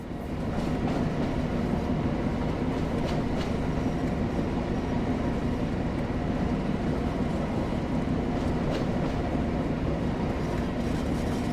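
Class 08 shunter locomotive in the Train Sim World game at Blackpool North, a steady rumbling run of rolling wheels and wagons with faint rhythmic clicks, continuous and close.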